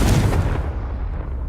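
A Confringo blasting spell from the Hogwarts Legacy video game lands as one sharp, loud explosive boom with a short rumbling tail.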